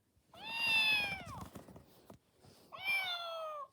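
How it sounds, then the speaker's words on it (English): A Trendmaster robotic kitten toy gives two high, tonal electronic meows, the first longer and bending downward, separated by a short pause filled with handling clicks and rustle. "That's an interesting meow. It's more realistic than you would expect."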